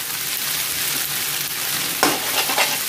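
Glass noodles stir-fried with pepper in a pan, a steady close sizzle with scraping stir strokes throughout and a sharper burst of frying partway through, no talking.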